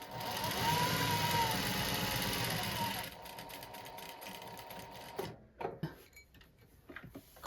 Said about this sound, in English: I'm gonna sew to that corner.